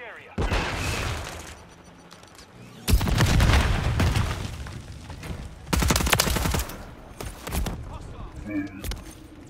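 Gunfire in a Call of Duty Hardpoint match: loud, close bursts of automatic fire and booming shots come in several volleys separated by quieter gaps, with a player talking in between.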